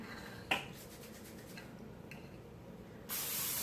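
A sharp click, then a quiet pause before a can of cooking spray lets out a steady, bright hiss that continues to the end.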